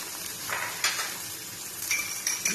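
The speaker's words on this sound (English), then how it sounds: "Beat up our egg" A raw egg whisked in a bowl with a pinch of salt, giving scrapy clinks and stirring strokes at a steady close pace, a few sharper taps of utensil on the rim near the end.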